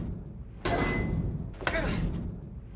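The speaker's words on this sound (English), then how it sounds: "I'm gonna keep trying to kick the door." Two heavy thuds a second apart ring out as a door is kicked in a cartoon, each impact loud and close with a resonant tail.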